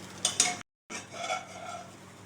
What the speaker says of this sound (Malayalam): എന്നിട്ട് ഇപ്പം ഞാൻ ഈ മുട്ട ഒന്നങ്ങനെ മറിച്ചു കേട്ടോ